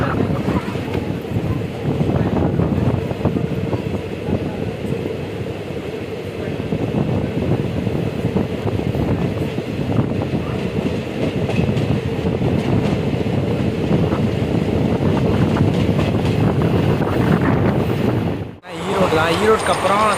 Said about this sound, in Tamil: ட்ரெயின் கிட்டத்தட்ட 100க்கு மேலே போகுதுங்க, பயங்கரமாக போகுதுங்க.